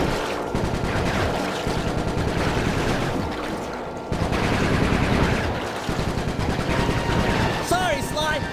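Rapid game gunfire in Sly 3: Honor Among Thieves during a canal shooting sequence, a dense continuous stream of shots under music and effects, with a voice briefly talking over it.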